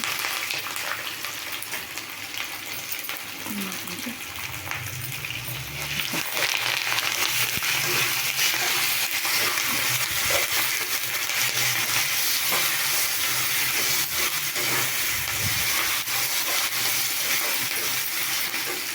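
Raw mango pieces and curry leaves frying in a pan for mango chitranna, a steady close sizzle that grows louder partway through, with occasional stirring scrapes and no talk.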